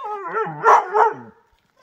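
A dog gives a couple of short, close barks mixed with whiny yips during a calm temperament test beside a sled, then falls quiet.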